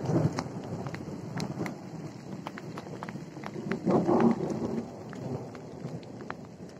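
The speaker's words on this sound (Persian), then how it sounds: "یک بارونی سختی پیش اومده است" Heavy rain pours down steadily with a dense hiss and scattered sharp drops hitting surfaces close by, and a low rumble swelling briefly midway.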